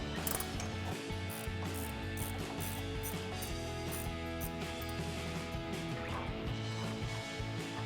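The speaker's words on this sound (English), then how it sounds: "It's gonna be a 16mm ratcheting wrench" A 16mm ratcheting wrench spins the top nut off an anti-sway bar end link on a 2009-2018 RAM 1500, giving a steady close run of rapid metallic ratchet clicks throughout with no talk.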